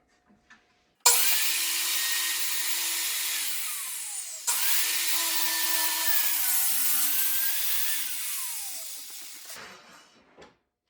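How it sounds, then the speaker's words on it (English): Circular saw cutting through a sheet of plywood, a loud, steady high-pitched whine that runs nearly ten seconds, briefly dips and restarts midway, then winds down at the end. "I'm going to make this first cut using a circular saw."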